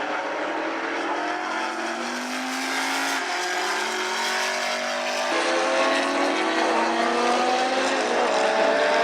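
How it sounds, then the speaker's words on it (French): Loud, continuous roar of 1980s–1990s racing car engines with rising harmonic whines as cars accelerate and shift, several engines overlapping, steady and close. "le bruit des moteurs qui savaient chanter autant que ronronner"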